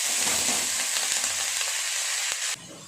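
Boiled radish greens with fried onion, salt and turmeric sizzle and crackle steadily in a hot pan while being stirred, a close, dense frying hiss that drops off near the end.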